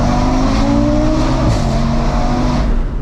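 A stage 3 hybrid turbo Audi RS3 engine roars loudly and continuously, its pitch holding and rising slightly as it revs, a steady close-up drone with no pauses.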